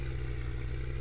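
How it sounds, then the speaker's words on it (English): A machine fan in the farming game Farming Simulator 2013 gives a steady, loud, unbroken drone with a low engine-like hum, and no one talks over it. "It's a nice sound of this fan."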